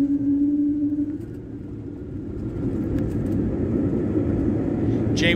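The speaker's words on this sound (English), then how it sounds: "Must be kind of weird having a big old jet fly over you when you're on the freeway" A big jet airliner passes low over a freeway with a broad, deep roar that swells over several seconds and blends with the rumble of traffic.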